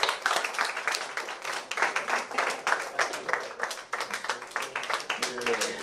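Audience clapping at a school arts festival finals, a dense patter of many hands lasting several seconds at steady loudness, with a murmur of voices mixed in.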